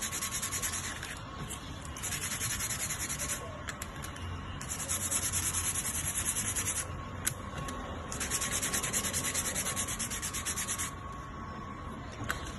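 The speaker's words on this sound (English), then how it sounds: "Now, let's just sand these edges so that they're smooth." The cut edges of halved popsicle sticks are sanded smooth for a small craft build. Steady, close rubbing and scraping strokes continue without pause, and no voices are heard.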